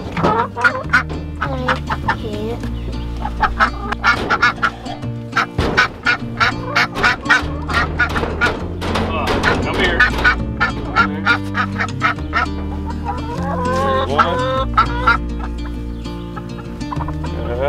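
Chickens and ducks raised on a small farm honk, quack and cackle loudly and close by in a dense, overlapping chorus throughout.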